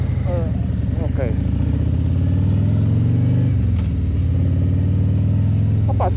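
A Harley-Davidson motorcycle's exhaust rumbles steadily and close while riding, with a deep, continuous low drone that swells and dips slightly as the throttle changes, and a voice talking faintly over it.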